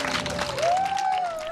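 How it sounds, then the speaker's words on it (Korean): Audience applause greets a Korean singer as she walks on stage for a concert performance: a dense, steady wash of clapping from a crowd, with a sustained rising and falling musical tone running through the middle. "여러분 큰 박수로 맞이해 주십시오"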